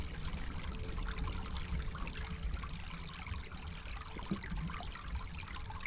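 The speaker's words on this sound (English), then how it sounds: "I cannot hear a single thing with that flowing water" Water flows continuously in the video game Total Miner, a steady trickling, streaming wash that fills the whole stretch at moderate level without any speech.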